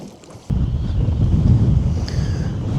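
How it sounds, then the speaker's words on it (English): Wind whips across a riverbank during catfishing. Heavy low buffeting and rumbling rush hit the microphone after a quieter half-second start, with no talking. "the wind's whipping too much over here"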